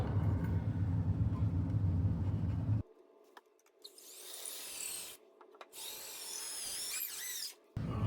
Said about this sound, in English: now we can go ahead and drive our bolts in